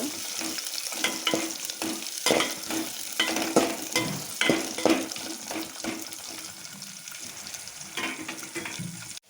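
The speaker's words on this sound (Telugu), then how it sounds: "మనకు ఆనియన్ వచ్చేసి కొద్దిగా రెడ్డిష్గా వేగింది కదా" Lengthwise-sliced onions frying in an oil-filled pan for bagara rice, a constant bright sizzle punctuated by repeated scraping strokes of a stirring spoon, close and fairly loud, no voices.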